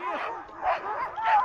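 Excited sled dogs yip and bark in quick overlapping bursts, fairly close and loud, with whining tones between calls.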